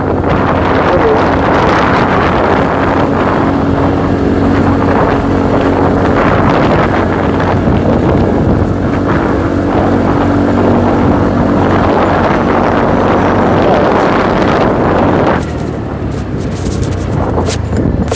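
A TVS Ntorq Race Edition scooter engine drones steadily and loudly while riding, under heavy wind buffeting across the microphone, continuing without a break for the whole stretch.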